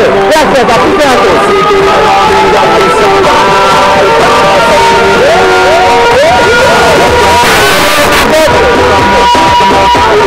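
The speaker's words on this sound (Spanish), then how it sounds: "Por favor, denle un fuerte aplauso como se lo merece" A large audience at a health-awareness event cheers and whoops in a loud, dense crowd roar with shouts and babble, welcoming a doctor to the stage, sustained throughout.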